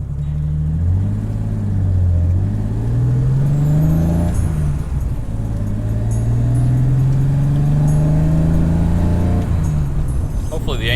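A bagged BMW E30 drives along, its engine droning steadily and rising in pitch through the gears with a short lift between pulls, loud and close under a constant road rumble.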